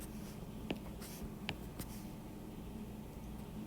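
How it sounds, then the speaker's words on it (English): Pen or marker writing a step of a math proof about the 1-norm, a few faint, brief scratchy strokes and taps over a quiet room background. "So let me write one more step."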